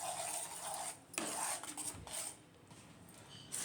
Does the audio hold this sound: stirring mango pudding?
yes